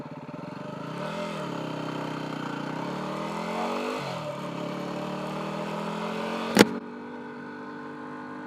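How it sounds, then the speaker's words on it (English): Motorcycle engine running outdoors on a fall day, with a couple of dips in revs, then a sharp clunk near the end as it stalls and cuts out, leaving a quieter background. "Currently out stalling my bike."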